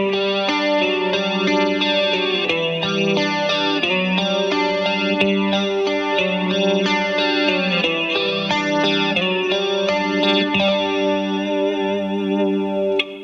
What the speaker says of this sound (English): So this is a clean chorus compression sound.